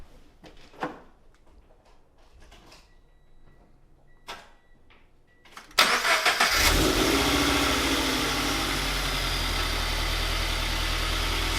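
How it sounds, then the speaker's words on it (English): A 2020 Toyota 86 fitted with new headers cranks and fires up after some quiet handling noises, then settles into a loud, steady, close idle that runs alone to the end. "now we're gonna start the car."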